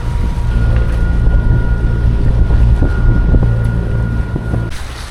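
A sailboat motoring under engine on a calm day with no wind, a steady low engine drone and hum with some wind and water noise on the microphone, close and continuous.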